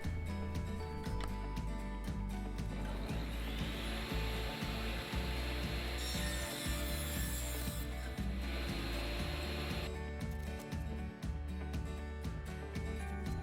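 A power saw cuts small wooden pieces for a coffee tray in a steady, buzzing run. Short cuts repeat one after another, with a brief, brighter whine partway through.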